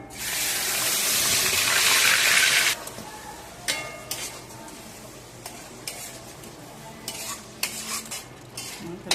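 Loud, steady sizzling of onion paste frying in hot oil for a few seconds, then it drops to quieter crackles and scattered stirring scrapes.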